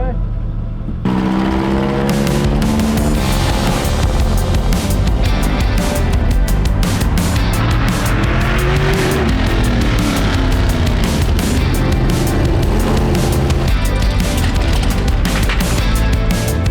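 Ninja Midget race cars lapping a circuit, their engines roaring loudly and continuously, pitch sweeping up and down as they accelerate and lift through the laps.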